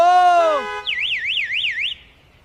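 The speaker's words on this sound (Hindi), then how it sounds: "ये कार के अलार्म आए" A car alarm sounds loudly from a new car parked outdoors, a rapid warbling electronic siren cycling up and down about four times, following a brief harmonic tone, then cutting off.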